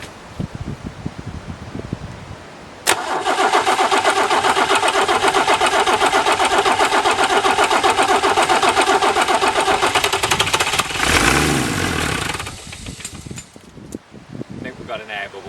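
Nuffield tractor diesel engine turned over by a converted Ford starter motor, a sudden loud steady cranking churn lasting about ten seconds before slowing and cutting off, with faint talk before it starts.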